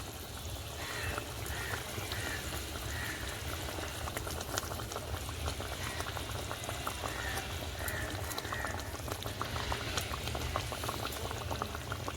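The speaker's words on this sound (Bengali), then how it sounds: "ঝোলটা ভালো ফুটে গেছে" Curry gravy for Hyderabadi paneer masala boiling in an uncovered pan, a steady close bubbling and spitting that carries on without a break, with no talk over it.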